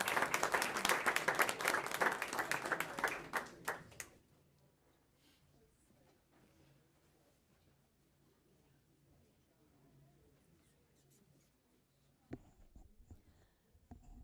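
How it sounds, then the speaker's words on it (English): Audience at a school board meeting applauds students' parents, a burst of brisk clapping for about four seconds that cuts off into a quiet room, followed by faint shuffling and a brief noise near the end. "if we could just give a round of applause to all the parents of these students as well, please"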